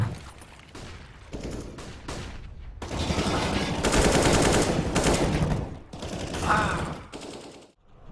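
Rapid Tech 9 pistol gunfire in a competitive shooter match, several bursts of loud close shots with brief gaps, the densest volley in the middle, over game ambience.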